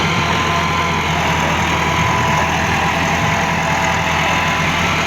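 A 2010 Massey Ferguson 375 diesel tractor with a WSK diesel pump runs steadily under light load while pulling a rotavator through a field, giving a loud, continuous low rumble with no break or change in pitch.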